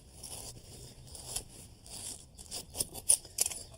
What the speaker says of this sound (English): take a knife and I'm going to cut a nice little graceful curve all the way down here